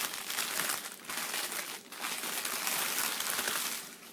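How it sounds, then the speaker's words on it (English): Plastic packaging crinkling and rustling as a wax loaf is unwrapped, loud and close, with continuous crackling in bursts and a short pause near the two-second mark. "I'm sorry about the crinkling."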